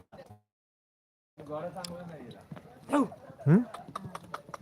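Horse hooves clip-clop during a horse ride in Shimla, a few light, uneven hoof knocks heard close by under people chatting.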